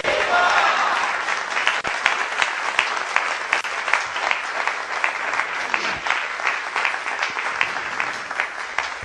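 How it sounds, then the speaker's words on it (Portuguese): A crowd at a devotional gathering honouring the Virgin Mary breaks into dense, sustained applause, loud and continuous for nine seconds, with a few voices faintly mixed into the clapping. "quem gostou, aplaude a Rainha e Mensageira da Paz"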